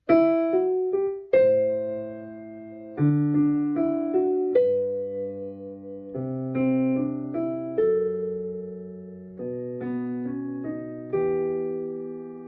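A piano plays a gentle melody over low bass root notes that change every bar or so, with chords sustaining and decaying, no voices.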